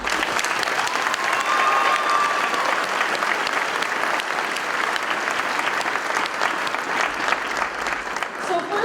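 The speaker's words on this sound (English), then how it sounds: "I'd like to give a round of applause to the class of 2017" Sustained applause fills a hall at a high school graduation for the class of 2017, a thick, continuous wash of many hands with faint crowd voices and a few brief whistles mixed in.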